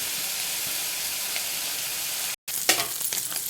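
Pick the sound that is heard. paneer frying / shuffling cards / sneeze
paneer frying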